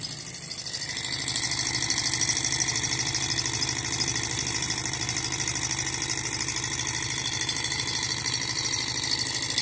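A new Stirling engine runs unloaded with its generator taken off, spinning fast. It gives a steady, close mechanical whir of constant pitch that continues without a break.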